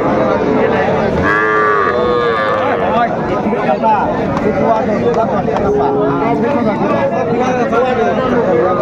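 Cattle moo repeatedly over a busy crowd of voices at the Aftabganj cattle market, with one long close call from a bull calf standing out early against constant market chatter.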